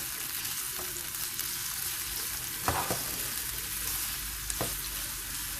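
Spinach roots sauté in olive oil with a steady, dense crackling sizzle, broken by a couple of brief louder stirring scrapes, close and continuous with no voices.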